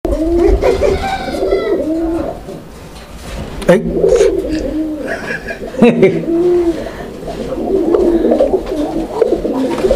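Breeding pigeons coo in repeated rolling phrases throughout, close and fairly loud, with a brief dip in the middle and a steady low background hum underneath.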